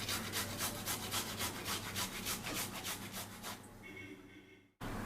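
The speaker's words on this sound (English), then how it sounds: "Into this I am grating in a small piece of ginger," Fresh ginger being grated into a bowl, a steady rhythmic rasping and rubbing that runs continuously and close, then stops abruptly near the end.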